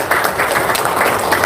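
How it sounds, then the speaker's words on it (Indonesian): Audience clapping at a local-wisdom talk, a steady dense wash of many hands applauding together at moderate loudness, continuous throughout with no voices over it. "Tepuk tangan dong."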